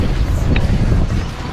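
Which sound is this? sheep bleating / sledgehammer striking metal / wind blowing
wind blowing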